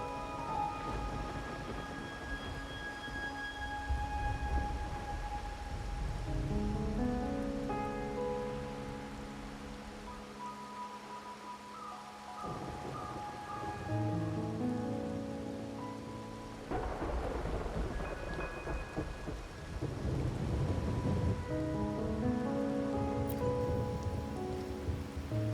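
Rain falls steadily through a rainy night in the video game Wuthering Waves, with rolling thunder rumbling underneath and a gentle musical score playing over the downpour.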